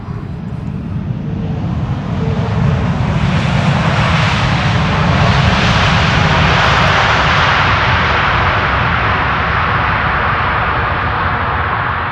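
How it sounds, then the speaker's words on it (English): A jet airliner lands using only idle reverse thrust, a loud, steady broadband engine roar that swells over the first few seconds and then holds continuously close by. "No, it's an idle reverse landing."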